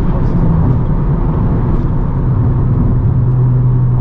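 A tuned stage 2 Honda Civic Type R FK8 drives at high speed, its engine droning loudly and steadily with heavy road and wind roar, no talk over it.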